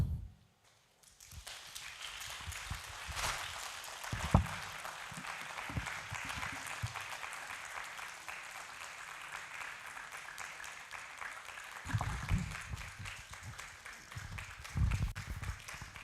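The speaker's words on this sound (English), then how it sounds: "clapping for her till she takes her seat?" Applause from an audience rolls on steadily for a long stretch, fairly distant, with some louder bursts of clapping near the end.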